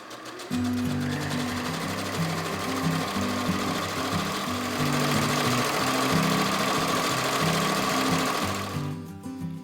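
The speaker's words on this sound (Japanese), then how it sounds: "長細い生地を中表にして端を縫おう" A sewing machine runs along the edge of a long fabric strip sewn right sides together, a close, loud rhythmic chatter with shifting speed that stops near the end.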